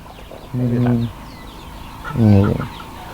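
Farm chickens give two loud, close calls, a drawn-out cluck followed after a pause by a stronger squawking cluck, over quiet outdoor background.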